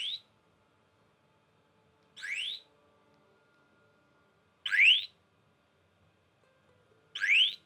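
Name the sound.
bicycle alarm sounding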